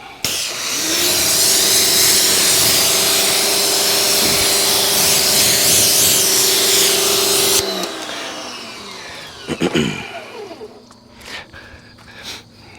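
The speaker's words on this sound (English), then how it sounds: "Just spray and wash." A steady, loud hissing spray of water onto a car runs for several seconds under a mechanical hum, then cuts off, leaving scattered handling noises and clatter.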